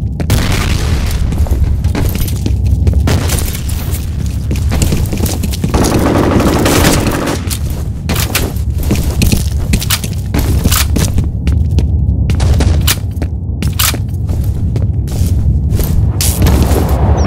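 A grenade explosion bursts amid heavy gunfire and machine-gun bursts, loud booms and rapid volleys filling the scene continuously with little pause.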